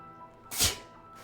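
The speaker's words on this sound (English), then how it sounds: "I want to sneeze." A single short, sharp sneeze bursts out once in a quiet room, close and brief.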